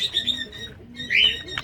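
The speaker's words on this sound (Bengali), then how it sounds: "লাল ছাপকা মুখো চোখের পায়রা আছে" A red-marked pigeon from a breeding pair gives a short, close call with soft throaty coos and a brighter chirp near the end, loud and alone over quiet background.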